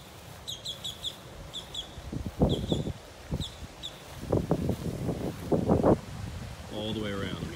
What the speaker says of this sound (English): I hear the birds chirping, they're happy.